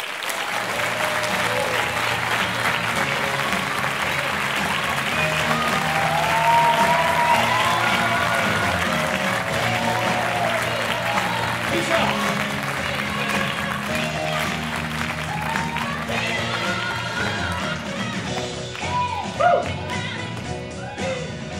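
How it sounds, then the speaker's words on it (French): Sustained applause from a conference audience fills the hall, a dense, loud wash of clapping for a speaker at a French event, with faint voices mixed in throughout. "Applaudissements, s'il vous plaît, pour Richard de Weber."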